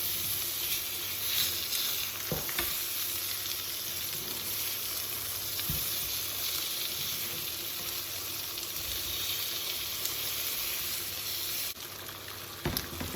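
Rosemary potatoes sizzling in a pan, a steady close-up crackle with a few sharp knocks as pieces are turned over, the frying continuing throughout without speech.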